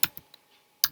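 Sparse computer keyboard typing while code is written for a PHP admin login session: three or four isolated key clicks, close and crisp, separated by short pauses.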